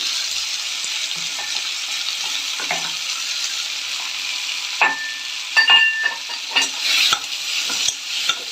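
Onions frying in oil give a constant bright sizzle, with repeated scraping and clinking of a spatula stirring the pan that grows busier toward the end, loud and close, and no voices.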